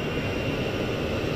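Airliner engines of an Iberia Airbus A320 held at takeoff power, a steady broad roar and whine heard from inside the cockpit, continuous and even with no voices.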